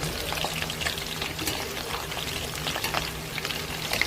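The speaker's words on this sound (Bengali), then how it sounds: "কম করে লাল লাল করে সব ভেজে নিই।" Chicken pakora fries in hot oil, giving a quiet, steady crackle and sizzle with scattered small pops throughout, heard alone.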